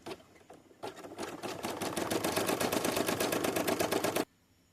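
An embroidery machine stitches a black outline on an in-the-hoop teacher ID badge, its rapid, even needle chatter loud and close for about three seconds before it stops abruptly.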